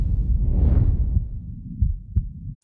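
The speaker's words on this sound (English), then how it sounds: "Heartbeat." A heartbeat from the soundtrack of the 2024 horror film The Substance, a low, dense throbbing pulse that fills the clip loudly and steadily before cutting off abruptly near the end.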